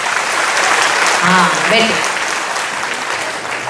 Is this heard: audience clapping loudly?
yes